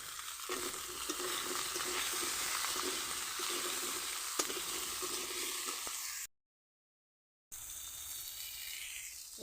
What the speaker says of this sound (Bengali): আমি বড়িটা সবজির সঙ্গেই নেড়ে নিচ্ছি